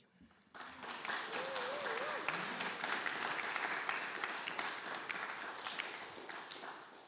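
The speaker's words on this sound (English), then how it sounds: "I never know what you're supposed to do while the clapping's going on" Audience applause after a poetry reading fills the room, steady dense clapping that starts abruptly and holds for several seconds, with a brief murmur of voices underneath.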